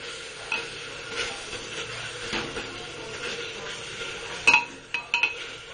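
Tomatoes mashed into a paste in a pan for lamb pulao, giving soft scraping and stirring with a few sharp utensil clinks near the end, close and moderately loud, with no talking.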